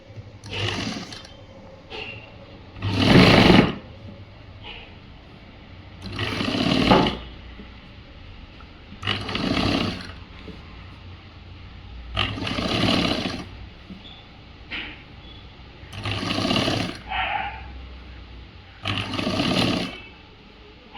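A sewing machine stitches a boys' government school uniform shirt in repeated short bursts of loud, close whirring, each lasting a second or so and separated by quiet pauses.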